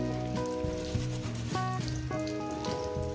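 Ginger paste and ground spices such as cumin and coriander sizzle steadily in a hot pan on a gas stove, a continuous close frying hiss with soft stirring scrapes, alone with background music tones.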